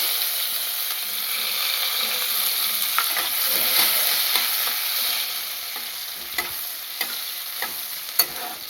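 Chopped garlic fries in hot oil with a bay leaf, a dense steady sizzle close by, with scattered scraping taps of a spatula stirring it, growing more frequent toward the end.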